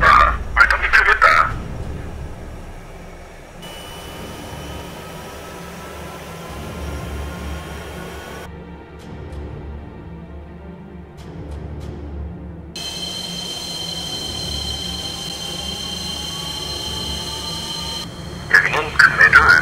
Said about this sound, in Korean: 큰매 둘, 발동기 켜라